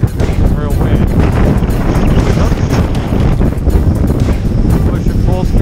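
Strong, steady wind roars and buffets the microphone during a DJI Mini 2 drone flight, loud and continuous throughout with no real break.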